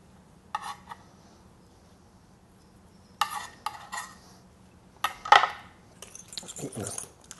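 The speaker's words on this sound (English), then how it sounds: "Mix everything together." Salmon and cucumber salad with thinly sliced vegetables and fresh chopped dill being stirred in a bowl, giving a few short separate clinks and scrapes of utensil against dish with quiet pauses between.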